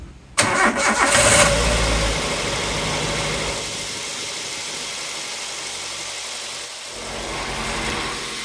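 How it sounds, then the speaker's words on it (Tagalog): A car engine is jump-started from a Conpex 300W portable power station: a brief starter crank catches into a loud roar, then settles into a steady, close idle that runs on alone. "So, kaya niya magpa-start ng sasakyan."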